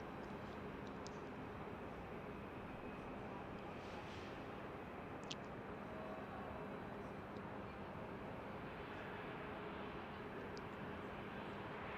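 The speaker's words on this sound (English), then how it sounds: "as soon as these planes take off or land and they go right past me" Airplanes taking off and landing at San Jose airport, heard from a planespotting spot nearby: a faint, steady, distant jet engine roar with broadband rumble running throughout, and no distinct passes or voices standing out.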